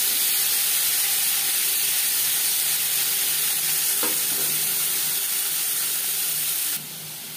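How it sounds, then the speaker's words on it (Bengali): Marinated prawns fry in hot refined oil, a loud, dense, steady sizzle that hisses on without pause and drops off abruptly near the end. "2 চামচ রিফাইন্ড অয়েল গরম করে নেওয়ার পর দিয়ে দিলাম ম্যারিনেট করে রাখা মাছ।"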